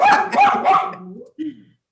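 A dog barks several times in quick succession, fairly close and loud, followed by a shorter yelp after a brief pause, during a committee meeting.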